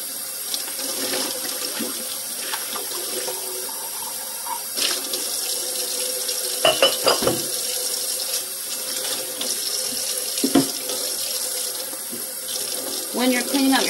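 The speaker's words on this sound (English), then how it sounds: "When you're cleaning out your sink, transfer to a different sponge or a cloth, and let's clean the sink." Water runs steadily from a kitchen tap while a sink is being cleaned, a continuous close splashing stream with occasional knocks and scrubbing clatters.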